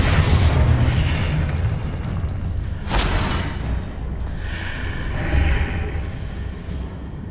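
The Confringo fire-blast spell in Hogwarts Legacy on PS5 sounds as a loud, dense, rumbling boom with a sharp burst near the middle, followed by sustained crackling explosion noise and whooshes, with no voices.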